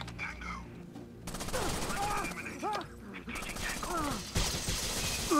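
Gunfire in Rainbow Six: Vegas 2: dense bursts of automatic weapon fire and overlapping shots with mechanical clatter, loud and chaotic, with a voice talking at times over the shooting.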